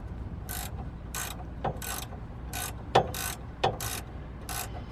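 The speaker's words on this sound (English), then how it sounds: "I got the Allen wrench in the stud and a 14mm gear wrench on the nut" Rapid metallic ratcheting bursts from a 14mm gear wrench turning a nut on the rear sway bar link of a 1996 Toyota Camry, about eight short repeated clicking runs close up, with a couple of sharper knocks between them.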